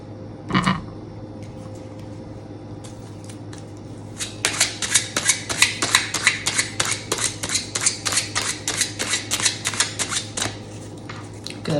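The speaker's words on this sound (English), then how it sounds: "Good hard shuffle." Tarot cards shuffled hard by hand nearby, a run of rapid crisp riffling bursts in a steady rhythm after an earlier single snap, over a faint low hum.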